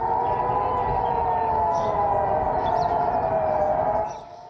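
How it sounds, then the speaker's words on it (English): An air raid siren in Jerusalem wails steadily, holding one sustained tone across the whole span, loud and continuous, then cuts off abruptly near the end. "A siren sounded across Jerusalem this morning after the Israeli military warned of incoming missiles"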